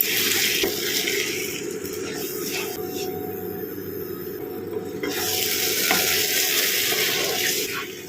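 Mutton rezala masala with white pepper and dried coconut powder fries and sizzles in a pan, a loud continuous hiss with occasional stirring scrapes, close up and steady throughout.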